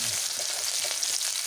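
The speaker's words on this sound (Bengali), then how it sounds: "ওই তেলেই ফোড়ন দিলাম, জিরে ফোড়ন, আর দিলাম এক মুঠোর মতন পেঁয়াজ কোচানো।" Sliced onion and cumin seeds frying in hot oil for a Bengali fish curry, a steady close sizzle with faint pops, heard alone.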